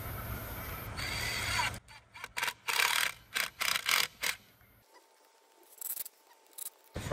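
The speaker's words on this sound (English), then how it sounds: "The first thing we want to do is screw these two longer bits together." Screws driven into two longer timber batter board pieces being fastened together, heard as a string of short, loud mechanical bursts from a drill, separated by pauses, with a low hum underneath at the start.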